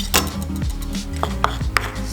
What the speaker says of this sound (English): So I'm just chopping the celery as well.